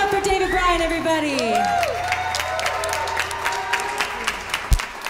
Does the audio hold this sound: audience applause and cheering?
yes